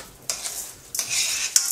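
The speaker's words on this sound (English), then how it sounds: "you're just going to mix it around in the pot" Turkey neck and ingredients being stirred in a pot, scraping spoon-on-metal strokes in short bursts with a faint sizzle underneath, close and fairly loud.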